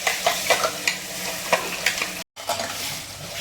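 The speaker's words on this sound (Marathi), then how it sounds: "आता आपण वाटण घालून घेऊया चांगलं तेल सुटेपर्यंत आपल्याला वाटण परतवून घ्यायचं आहे" Spice paste is stirred and fried in hot oil for a besan shengole amti. A loud, close sizzle runs throughout with regular scraping strokes of a spoon, and it drops out briefly for a short gap.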